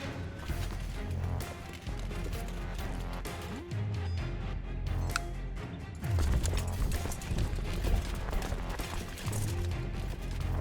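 Horse archers gallop in the Crusader Kings II video game, heard as busy hoofbeats and clattering cavalry with occasional crashes and whinnies, dense and continuous, swelling louder partway through.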